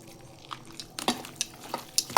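Steamed chow mein noodles are tossed with chili in a bowl, giving soft, irregular squelching and scraping strokes with a few sharper clinks, close and without speech.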